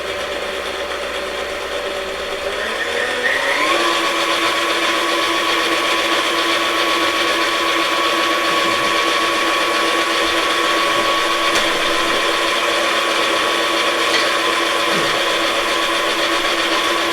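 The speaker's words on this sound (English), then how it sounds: "So let me go ahead and put it back on the mixer." A stand mixer kneads blueberry bagel dough with a loud, steady mechanical whir that climbs in pitch as the motor speeds up, then holds an even, droning hum throughout.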